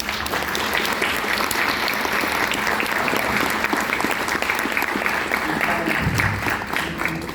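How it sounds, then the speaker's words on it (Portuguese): Audience applauding in a São Paulo city council chamber, sustained loud clapping from many hands that continues evenly from start to finish. "Aliás, queria pedir um aplauso a eles aqui."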